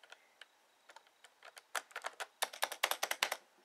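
Keys on a Macintosh PowerBook 180 rubber dome keyboard being typed, starting as sparse taps and building into a fast, close burst of crisp clicks, heard alone without talk.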